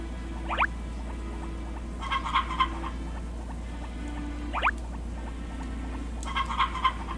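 Chickens cluck in the Harvest Moon Back to Nature farming game, with short chirpy bursts coming in small groups at a steady pace over a quiet background tone, and no talking.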